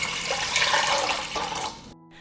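About 1.5 liters of water pours into a cooking pot, a close, bubbling splashing stream that shifts in pitch as the pot fills, then stops abruptly.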